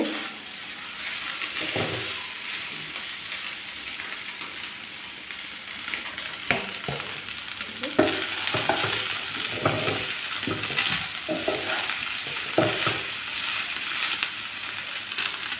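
Chicken pieces sizzle steadily in a hot pan while a spatula scrapes and stirs them in irregular clattering strokes, close and clear with no talking.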